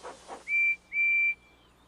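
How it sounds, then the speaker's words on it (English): A cartoon steam engine's whistle from a children's animated train show, two clear high steady toots, the second longer, fairly faint and distant-sounding, following brief soft rumble. "Thomas listens to Percy's whistle."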